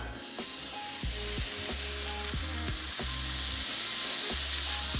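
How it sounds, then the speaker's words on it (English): Continuous frying sizzle of sausage patties and thick-cut streaky bacon in a hot pan, crackling and hissing steadily, close up, with occasional clinks of a utensil. "sausage patties are sizzling away nicely there, we're going to go on with some streaky bacon"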